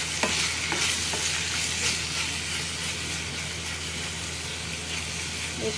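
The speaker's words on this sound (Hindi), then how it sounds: "और एक टमाटर और ये प्याज, इसको भी फ्राई करके हम निकाल लेंगे सॉटे करके" Tomato and onion sautéing in a pan for homemade kadai paneer, a steady loud sizzle with occasional stirring scrapes near the start, continuous with no speech.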